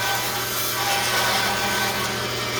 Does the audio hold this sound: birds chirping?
no